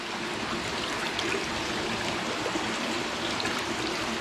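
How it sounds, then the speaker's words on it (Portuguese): Water runs steadily into a fish pond stocked with trairão and lambari, a continuous, fairly loud rushing trickle with a slight splashy texture and no talking over it. "vou fechar. Pra não dar tanto barulho de água"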